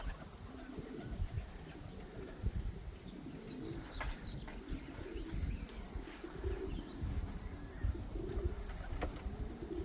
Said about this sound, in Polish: Jest kolejny gołąbek. Dobrze, no, siadają ładnie.